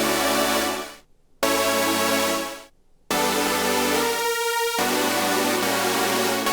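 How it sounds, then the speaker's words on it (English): Sustained Serum synthesizer chords following a song's main chord progression, bright and full, held in long blocks with two brief gaps of silence and a change of voicing partway through, playing alone. "We started with these serum chords that we're just following the main chord progression."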